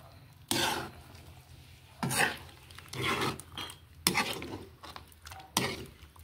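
A spoon clanks and scrapes inside a cooking pot while rabbit kaldereta is stirred, giving several separate metallic knocks and scrapes in an uneven rhythm, with short quiet gaps between them.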